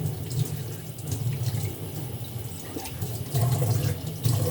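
Water runs steadily from a kitchen sink tap while rice is washed under it, a continuous close splashing with slight surges and no talk.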